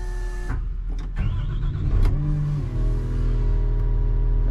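A Next Gen Cat 938 wheel loader's diesel engine cranks and fires up, settling into a loud, steady idle close by, with no talking.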